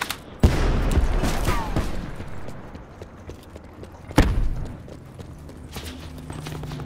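Two sharp, loud gunshot bursts in a first-person shooter video game, each followed by a fading tail, with quieter game noise between.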